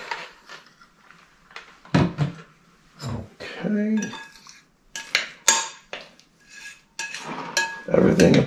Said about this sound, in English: So we'll proceed to mix this up for a little bit, and let's get an even consistency here, a nice mix